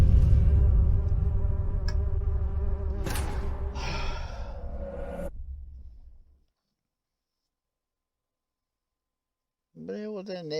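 Bees from a nest in The Witcher 3 drone in a loud, close, continuous buzz for about six seconds alongside a gasping breath, then cut to silence before a voice starts.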